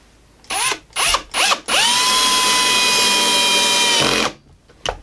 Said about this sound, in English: now I'll just put in a few of these screws and we should be good to go.